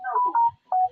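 Telephone keypad dialing tones, three short beeps with brief gaps between them, clear and close with no voices.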